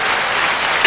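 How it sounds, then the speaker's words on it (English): Brief burst of dense, loud applause from a podcast audience, clapping steadily for under a second. "Thank you for the applause."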